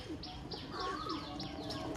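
Pigeons of a green-eyed breed, kept for sale, coo softly, with a few brief chirps over quiet background noise. No voice is heard.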